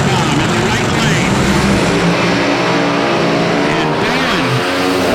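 A top fuel drag racing car launches down the track at a national event, a loud, sustained roaring engine under an announcer's voice.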